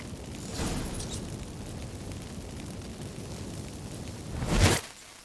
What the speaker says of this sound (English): Get ready for some magic fireworks.